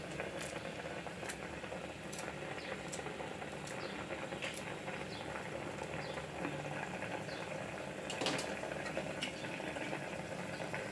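Methi seed curry (fenugreek seed shaak) simmers in a pan, giving faint, steady bubbling with scattered soft pops and crackles under a low hiss.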